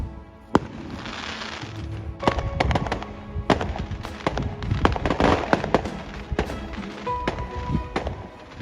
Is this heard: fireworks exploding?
yes